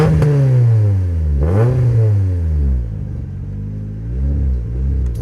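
A LADA 2104 car engine, tuned to 420 horsepower, revs loudly up and down with a throaty rising and falling roar and a sharp blip in the middle, then settles into a rumbling idle before picking up again.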